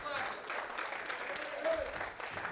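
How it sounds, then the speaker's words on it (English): Applause at an award ceremony, a dense steady clapping from an audience filling the room, with a voice speaking briefly over it. "I hope the people on the stream can hear the applause"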